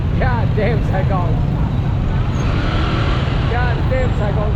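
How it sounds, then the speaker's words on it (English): A motorcycle rides through dense Saigon street traffic, with a steady, loud road rumble and engine drone throughout and a voice talking over it. "Freaking Saigon traffic."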